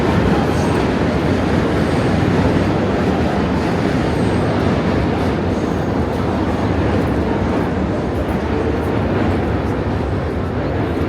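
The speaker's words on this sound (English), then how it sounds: "That's the subway that runs over the Manhattan Bridge" A subway train rumbles across the Manhattan Bridge in Dumbo, Brooklyn: a loud, steady roar of wheels and rails with rattling clatter that holds for many seconds, no talk heard.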